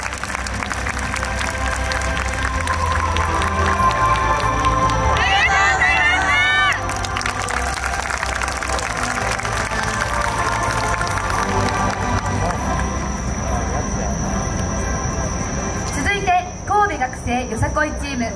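Applause from the crowd at a Koiya festival award ceremony, a steady wash of clapping that goes on throughout, with a voice speaking over it and bursts of cheering toward the end.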